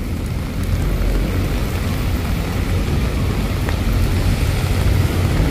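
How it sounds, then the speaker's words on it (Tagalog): Heavy rain pours in Manila as a steady, dense hiss with a low rumble underneath, continuous and fairly loud for several seconds with no voices. "Lumakas na yung ulan ah."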